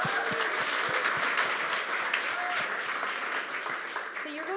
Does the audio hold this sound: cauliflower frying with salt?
no